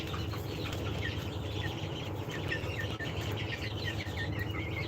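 A flock of 47-day-old broiler chickens clucks and chirps continuously, many overlapping calls over a steady background hum, with no voices.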